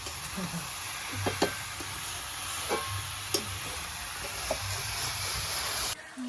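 Meat cooking in a pan is stirred with a metal spatula, giving soft irregular scrapes and clinks over a steady sizzling hiss, close by and with no talk.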